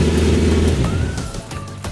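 A car with its resonators deleted, heard in a residential neighborhood, gives a loud close engine roar that eases off and drops to a quieter burble, with a brief whistle under it.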